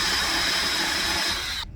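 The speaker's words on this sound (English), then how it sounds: "we're just going to take the hole saw and start drilling and" A hole saw on a drill cuts into wood for a 12-hole K-cup coffee holder, giving a loud, steady whirring grind that runs without a break and then cuts off abruptly.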